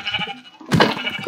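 Sheep in the Minecraft video game bleat in two short calls, one soft and one louder, standing alone with no talking over them.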